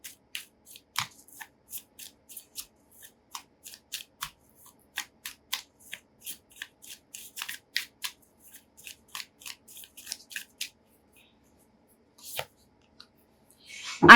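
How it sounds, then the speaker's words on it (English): Tarot cards flipped and shuffled by hand in a quiet room, a run of crisp separate snaps and flicks in uneven rhythm, close and clear, ending in a louder rustle. "because of constantly the way the cards were flipping right now"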